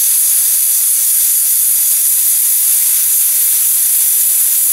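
Loud, steady hiss from a Bumper Smith nitrogen welding station while a bumper is welded, an unbroken bright rush of gas holding even for the whole stretch with no voices.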